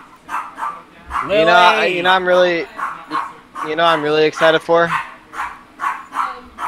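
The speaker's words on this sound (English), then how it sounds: "These dogs just shut up." Dogs bark and yip in short bursts throughout, mixed in with people chatting casually over them at close range.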